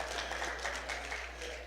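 An audience applauds the lunch helpers at a Saturday afternoon congress gathering, continuous clapping with a faint low hum beneath.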